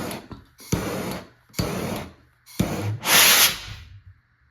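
Homemade pulsejet built from a moonshine jug, fired outdoors, giving three loud roaring bursts about a second each, the last rising into a harsh hissing scream before dying away.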